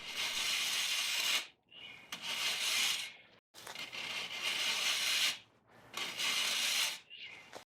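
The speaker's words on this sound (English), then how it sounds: "I used a rasp to clean up the edge of the board before installing it in the bathroom." Rasp filing the edge of a DensShield tile backer board, a harsh gritty scraping in several long strokes separated by short pauses, close and fairly loud.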